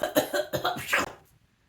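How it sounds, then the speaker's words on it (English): A rapid burst of several harsh, loud coughs in quick succession, trailing off into silence. "I did the most ginormous cough"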